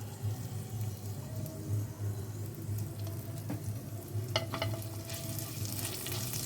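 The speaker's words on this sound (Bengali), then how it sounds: "শুকনো লঙ্কাটাকে একটুখানি ভালো করে ফ্রাই করে নেব।" Dried red chillies and panch phoron frying in a pan for aloo til sabji, a steady soft sizzle up close with a few sharp clinks of a utensil near the end.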